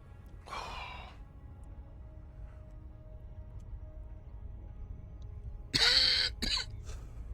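A person with a lingering two-week cough coughs harshly twice, a short burst near the start and a louder, doubled hack near the end, close to the mic with quiet room tone between.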